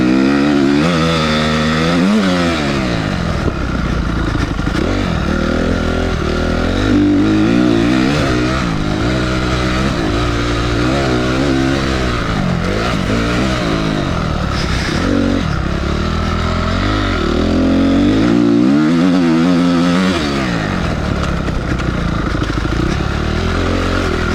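A two-stroke dirt bike, either a GR8 2T or Beta 200RR, or a Honda CRF 250R, ridden hard with its engine loud and close, revving up and down continuously through gear changes and throttle blips.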